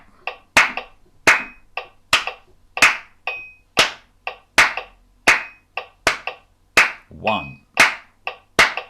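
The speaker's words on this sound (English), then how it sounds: "then I'll start clapping after 4" Sharp, single hand claps keeping a steady beat of about two per second in a music warm-up session, close and crisp against near silence, with a word spoken once.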